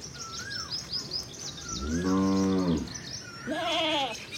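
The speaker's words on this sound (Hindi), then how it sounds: "ये प्यारी प्यारी बकरी बैठी है।" Goats bleat in a village setting, several loud, close, wavering calls in sequence, with a long sustained bleat in the middle and a shorter one near the end over faint background noise.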